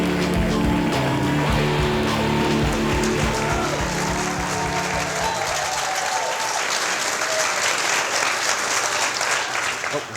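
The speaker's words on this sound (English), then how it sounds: "Please give a very warm late night welcome to Mary Linda Rapelye." A late-night talk show studio audience applauds to welcome a guest, a dense, steady wash of clapping that stays loud and continuous throughout.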